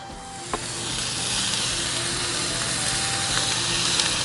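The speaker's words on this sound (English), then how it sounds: "Listen to that sizzle." Ribeye steak and butter sizzling in a hot pan, a steady broadband hiss of frying that holds throughout, with a few faint pops and clicks over it.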